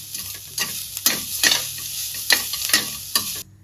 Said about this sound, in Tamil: இப்போ பாருங்கள், பருப்பு எல்லாமே வறுபட்டு வந்துடுது